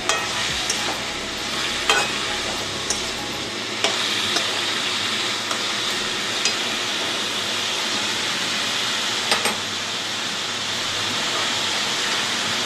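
Ash gourd shukto with ginger paste is stirred in a pan on the stove. A steady, even sizzle runs throughout, with sharp scraping clicks from the spoon at intervals.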